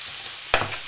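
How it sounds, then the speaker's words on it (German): Seitan and fennel frying in a pan, a soft continuous sizzle with one sharp clatter of stirring or a utensil striking the pan partway through. "Das beides könnt ihr jetzt jedenfalls erstmal ein paar Minuten schön anbraten"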